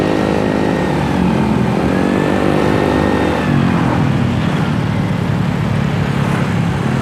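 A motorcycle passes on a busy road through an industrial area of Kopo, Bandung, its engine drone rising and then fading amid steady surrounding traffic noise, with no talk.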